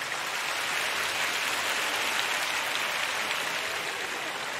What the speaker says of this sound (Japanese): ではジュリエッタだと思う方は拍手してください。